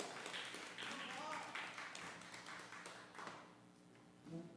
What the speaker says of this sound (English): How about another round of applause for Doug and for Snowball?